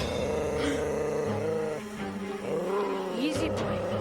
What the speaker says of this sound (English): That is not what a dog looks like when they're growling.